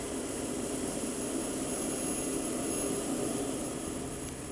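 A plane's engines roar steadily at takeoff on a June night flight, a loud, continuous broadband drone holding even throughout with no voices.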